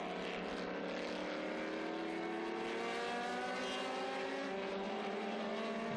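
Historic race cars, including a Lola T70 Mark 3, howl past at speed at the Estoril Classics, a loud, sustained engine roar with rising pitch throughout.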